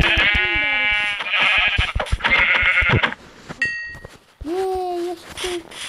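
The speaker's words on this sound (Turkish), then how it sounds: "Aha, koyun." Sheep in the video game Minecraft bleat repeatedly, loud and close, in a run of wavering calls followed by a short pause and two more bleats.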